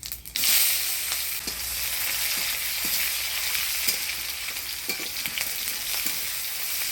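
Chopped onion sizzles and fries in hot oil for a Bengali village-style fish curry, a loud, steady hiss with a sharp burst as it goes in, followed by occasional stirring clinks.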